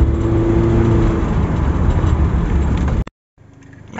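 A car engine runs steadily with a loud, full rumble for about three seconds, then is switched off and cuts out abruptly, leaving a short silence followed by faint background noise.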